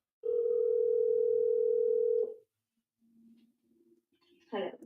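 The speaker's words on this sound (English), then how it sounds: "Making a phone call. Oh, it's ringing." A phone call rings out as a steady, loud single-pitch tone for about two seconds, followed by faint quiet tones and a short burst of voice at the end.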